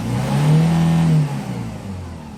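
A Hyundai Porter Super Wing truck engine revs up under acceleration, rising to a strong, steady drone that holds for about a second before easing off into a lower idle, close and loud.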